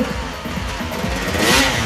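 An enduro motorcycle at an endurocross race over rubble revs its engine in short, rough bursts, loud and close, with a brief rise near the end.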